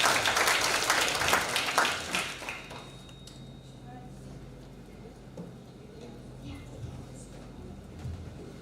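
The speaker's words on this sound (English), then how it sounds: "Let's clap our hands for our speaker" Seminar audience applause rises quickly as a session speaker takes the stage, then thins into scattered claps and room murmur.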